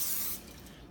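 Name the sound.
cooking oil sprayed onto bread dough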